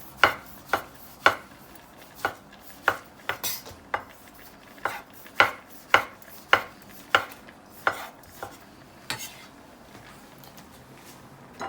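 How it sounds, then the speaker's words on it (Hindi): Tomatoes are chopped on a board with a knife for a mutton liver and spinach dish, giving a series of about twenty sharp, close knocks in an uneven but steady rhythm, with faint kitchen clatter between. "साथ हम अपने टमाटर साथ ही काट के डाल देंगे।"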